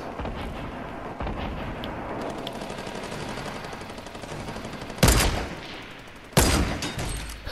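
Rapid gunfire in Fortnite rattles steadily through a noisy battle, punctuated by two sharp, loud shots or impacts near the end that stand out above the ongoing din.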